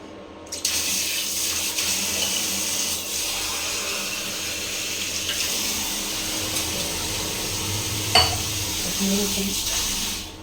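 Water runs steadily into a pot in a continuous splashing hiss, with a few light clinks near the end and no talking.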